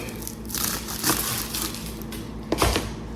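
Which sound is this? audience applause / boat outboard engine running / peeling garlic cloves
peeling garlic cloves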